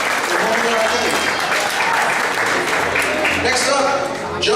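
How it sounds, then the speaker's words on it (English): A convention crowd applauds a cosplayer at a costume contest, loud sustained clapping filling the hall with a few voices mixed in. "big round of applause for Homura Akemi"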